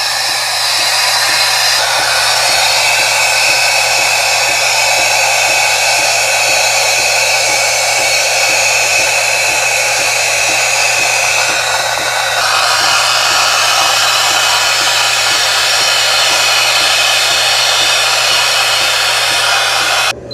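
A loud, steady hissing roar from a Ninja Luxe Cafe ES601 espresso machine frothing milk, running without pause for about twenty seconds, with a low hum underneath and a slight shift in tone midway.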